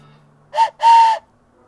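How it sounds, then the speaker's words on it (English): Two short whistle toots, a brief one then a longer one, clear and fairly loud against near silence. "There's the hype train whistle."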